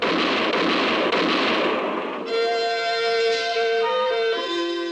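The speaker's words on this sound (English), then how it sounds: "For about 5 seconds, the moonlit clearing thundered to the sound of gunfire." Burst of gunfire in a Western radio drama shootout in a moonlit clearing, a dense rumble of rapid shots lasting a couple of seconds, then giving way to sustained tonal music.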